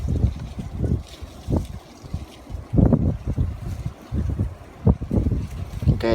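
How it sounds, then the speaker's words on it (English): Strong wind gusts at night during a high wind warning buffet the microphone in irregular bursts, low rumbling rushes rising and falling throughout, loud and close. "incredibly windy night this Friday morning"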